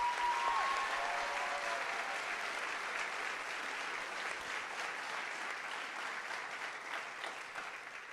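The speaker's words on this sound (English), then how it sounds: "A big round of applause for them." Sustained audience applause at a TEDx youth event fills the room, a dense, even clatter of many hands clapping that holds steady and slowly tapers near the end.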